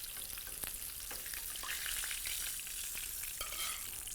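Chicken chapli kebabs fry in plenty of oil on a wide tawa, giving a steady, close hiss of sizzling with occasional sharper crackles and spits throughout.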